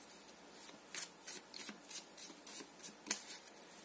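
Tarot cards being shuffled by hand, giving a run of soft, rapid riffling bursts in a quiet room, about eight short flurries at a steady rhythm, close and faint with no talking.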